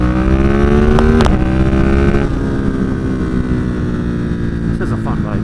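A motorcycle engine drones loud and steady while riding, with a persistent harmonic hum, captured by a Zoom H1N recorder kept in a pocket; rumble and rustle run throughout, with brief bumps and shifts in pitch.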